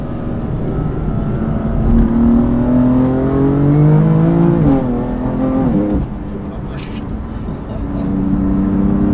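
BMW M4 GTS accelerating, a loud close-up engine note that climbs in pitch through the revs, drops briefly at a shift, then builds again, with the driver talking over it.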